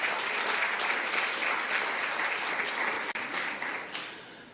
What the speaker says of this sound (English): Could you give her a round of applause, please?